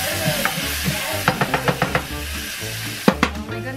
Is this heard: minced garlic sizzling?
yes